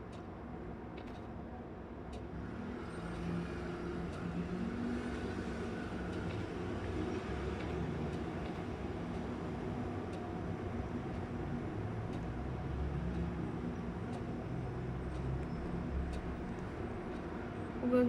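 A bus driving in the Roblox game Brookhaven, a low steady engine-like rumble with faint rattling, continuous and fairly quiet throughout.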